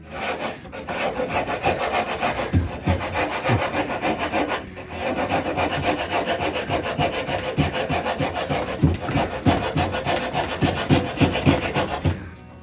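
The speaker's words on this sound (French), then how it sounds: "Et ça, c'est une scie qui est ici pas en cross-cut." Hand saw working through pallet wood with a long run of rhythmic rasping strokes, close and loud, brief pauses between bursts and the pace quickening toward the end, no speech.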